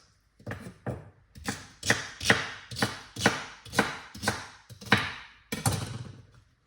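A knife chops food on a cutting board in about ten steady, evenly spaced strikes, each a crisp thunk, close and distinct with no talk over them.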